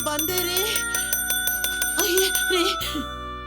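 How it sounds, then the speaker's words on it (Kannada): A household doorbell or bell rings in a repeated electronic chime pattern, fairly loud and close, with voices talking over it. "ಬೆಲ್ ಹೊಡೆದ ಕೇಳಿಸಿಲ್ವಾ"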